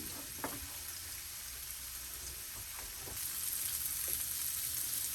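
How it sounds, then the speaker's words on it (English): Peppers and onions frying in a pan give off a steady, soft sizzle throughout, with a few faint clinks early on and the frying growing slightly louder toward the end. "always keep an eye on your peppers and onions. Make sure that they're not cooking too fast."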